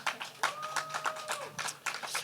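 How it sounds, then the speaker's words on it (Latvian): An audience at a public panel discussion claps for a young panelist, a short burst of scattered, moderately loud applause that overlaps a brief stretch of talk. "Aplausi drosmīgam jaunietim."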